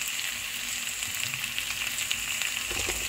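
Vegetables stir-fried in a pan with salt and turmeric for a prawn, potato, jackfruit-seed and drumstick curry give a steady, close sizzle with occasional scraping stirs and no talk.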